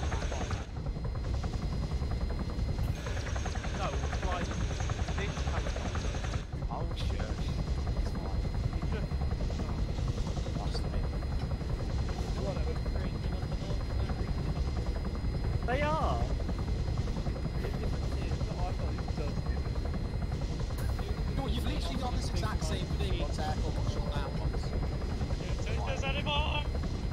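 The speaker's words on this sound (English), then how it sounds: "No, we're flying this helicopter." A steady, loud helicopter rotor drone in Arma 3 runs throughout, with occasional game clicks and distant bursts layered on top.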